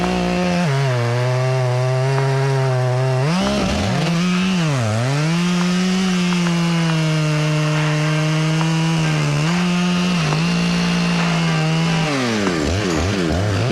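A chainsaw saws steadily through a hollow walnut log, loud and close, its engine pitch dipping and rising as the bar bogs into the wood and frees up, with no talking over it.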